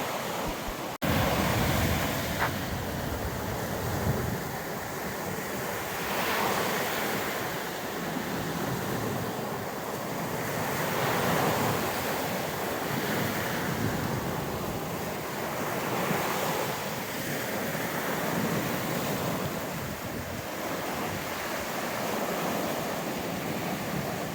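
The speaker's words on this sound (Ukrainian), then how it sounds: "А зараз просто послухайте його, послухайте і подивіться на цю красу, на ці хвилі" Sea waves roll onto the shore at Arkadia in Odesa, a steady broad surf wash that rises and falls in slow repeating surges, with some wind noise over the microphone and no voices.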